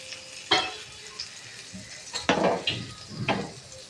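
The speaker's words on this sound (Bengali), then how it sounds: "এবার এই তেলের মধ্যে আমি ফোড়ন দিয়ে দেবো একটা তেজপাতা, একটা শুকনো লঙ্কা আর গোটা গরম মশলা।" Bay leaf, dried red chili and whole garam masala spices dropped into hot oil for a mutton curry tempering, giving a low crackle with a few louder bursts of sizzle and stirring clatter, close by, no talk.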